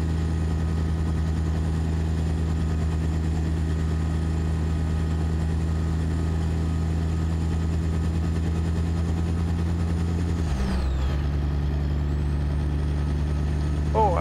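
Caterpillar 3406E turbocharged diesel in an American Truck Simulator rig drones steadily at a low, even pitch for most of the stretch, then briefly dips and shifts near the end before resuming its constant hum, with no talk over it.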